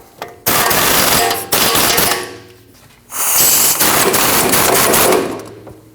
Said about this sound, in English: Tighten both nuts.